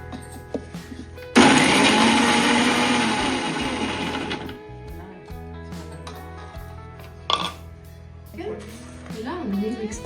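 A mixer grinder grinds garlic for idli podi in a home kitchen, a loud, steady whirring burst of about three seconds that fades as it runs, with people talking before and after.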